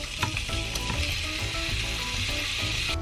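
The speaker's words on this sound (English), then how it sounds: "I basically sauteed the shrimp with lemon butter, garlic sauce, and some additional seasonings" Shrimp sautéing in hot lemon butter and garlic sauce with seasonings, a steady close sizzle and frying hiss throughout with occasional stirring scrapes and faint clinks.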